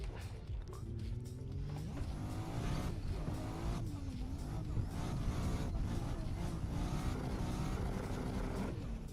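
Car drifting in the Assetto Corsa racing game, engine revving up and down with rising and falling pitch while tires squeal and skid, continuous and moderately quiet, with faint talk now and then.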